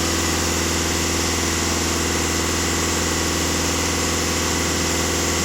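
A Volkswagen Passat or Skoda engine idling with fault code P0403, a loud, steady close rumble with an even pulsing drone that does not change across the whole stretch; no talk.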